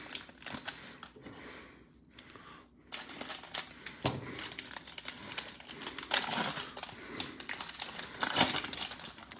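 NBA Prizm Mega Box and Cello Box card packs are cut open, giving a close sequence of crinkling wrapper rustles, snips and sharp clicks that come in irregular bursts throughout.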